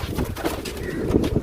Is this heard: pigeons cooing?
yes